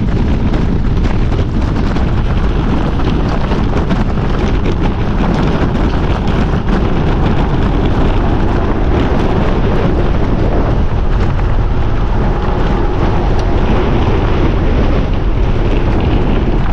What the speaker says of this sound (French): Et il y a un vent de malade.